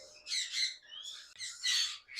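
A parrot at a bird seller's collection gives two loud, harsh squawks in quick succession, close and alone over a quiet background.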